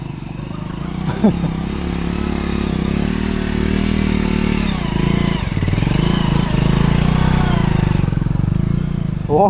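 A Royal Enfield Himalayan motorcycle on a motocamping ride gives off a close, steady engine drone that rises and dips slightly, while voices talk over it.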